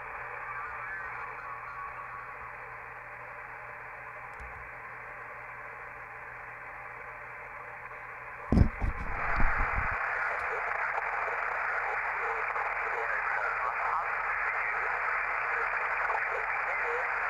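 Elecraft K2 radio receiving on lower sideband with the noise blanker switched on, a steady hiss of band noise and faint static with a brief burst of crackling interference midway, alone without talk.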